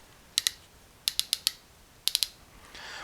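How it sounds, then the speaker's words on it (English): Ratchet of a restored hand brace drill clicking in short, sharp bursts of two, four and three quick clicks, close and quiet, with silence between the bursts. "The ratcheting works just fine. Nice and quiet and smooth, and locks nice and tight in both directions"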